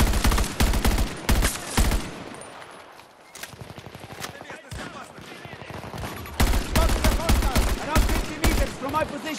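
Gunfire in Battlefield 2042 on PS5 during team deathmatch: dense bursts of automatic fire at the start and again near the end, with a quieter gap in the middle, mixed with game voice callouts.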